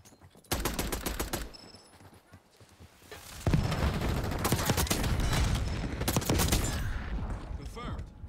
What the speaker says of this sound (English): Who just shot at me, though?